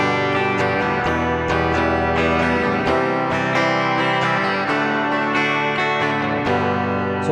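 Guitar strumming a down, down, up, up, down, up pattern across a run of chords, with steady rhythmic strokes ringing close and loud throughout, no voices.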